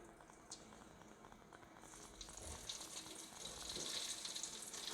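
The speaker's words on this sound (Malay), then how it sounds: "setelah minyak panas, kita masukkanlah udang kita untuk digoreng" Shrimp dropped into hot oil for frying, about eight spoonfuls of oil in a home kitchen, giving a steady, faint bubbling sizzle that grows slightly louder toward the end, with no talking.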